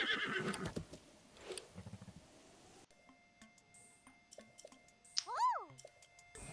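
A horse in The Legend of Zelda: Breath of the Wild whinnies with a rising and falling cry near the end, following clattering game sounds and brief hoofbeat-like ticks.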